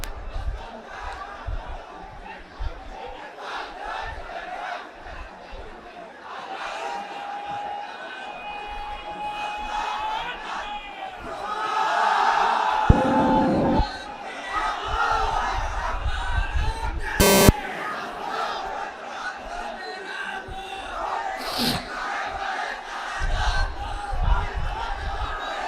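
A huge crowd at an Islamic religious gathering (mahfil) in Lalmonirhat, Bangladesh, chants takbir in a dense, roaring wall of voices that swells and surges, with sharp louder bursts breaking through.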